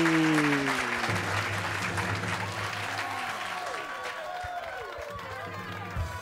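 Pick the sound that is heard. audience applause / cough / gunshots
audience applause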